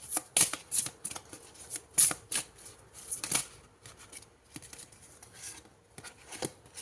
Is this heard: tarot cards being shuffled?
yes